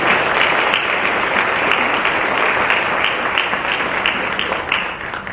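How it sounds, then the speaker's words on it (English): An audience at a high school Hall of Fame induction ceremony applauds the inductees, a full, even roar of many hands clapping that holds steady before tapering slightly at the end. "Big round of applause for these people."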